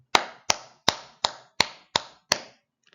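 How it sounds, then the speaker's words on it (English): Seven ordinary hand claps at a steady, slightly quick rhythm, crisp and moderately loud with short room decay, ending in a faint tick; no voices. "Normal clap. So clap as you usually do."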